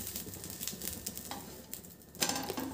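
Tomato dosa cooking in oil on a hot pan, a soft close sizzle with light scraping and spatula clicks, a louder crackle near the end, no talking.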